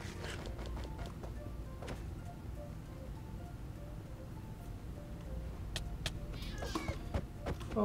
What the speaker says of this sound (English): Oh, this makes me sad just listening to all the sad kitty cats.